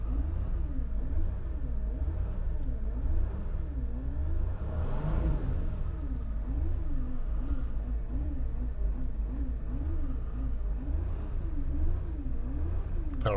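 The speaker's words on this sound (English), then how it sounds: "Maybe some slight bearing noise, but it was a lot worse when I first started it." A van idles steadily with a low droning engine and a faint wavering whine that could be a worn bearing or a power steering pump, continuous and moderately close.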